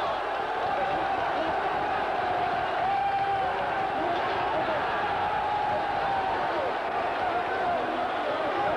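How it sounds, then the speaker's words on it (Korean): Large arena crowd of boxing fans roaring and cheering after a knockout win in a WBC light flyweight title fight, a steady dense wall of crowd noise throughout, with a broadcast announcer talking over it. "많은 권투 팬들이 함성을 지르고 있습니다"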